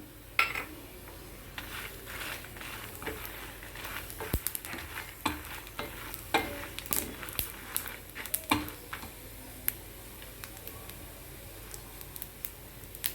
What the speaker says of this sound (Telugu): ఇలా వేగేటప్పుడు జీలకర్ర కూడా వేసి అంచుదాం